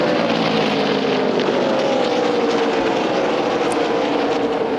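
A blown race car engine at the 2012 NASCAR Nationwide Series O'Reilly Auto Parts 300 gives a loud, steady roar without a break, rough and strained, with a faint whine sliding through it.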